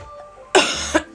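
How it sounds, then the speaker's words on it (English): A single close, harsh cough that breaks off in a short second burst, with no talking around it. "I need to cough."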